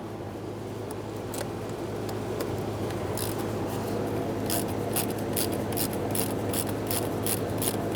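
A 5.5mm socket on a ratchet works a throttle body stud loose on a 1999-2006 Chevrolet Silverado 1500 4.3L V6, quiet at first, then a run of quick metallic clicks and light scrapes close by, without talk.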